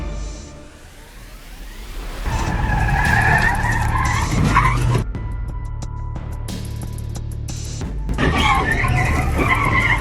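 A Porsche spins out in the middle of a highway, tires squealing and skidding in long, loud, wavering screeches over engine and road noise, with a short lull before a second burst of squealing.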